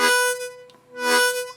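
A harmonica tongue slap on the draw plays twice in quick succession, each a drawn chord narrowing into a single sustained note, close and fairly loud.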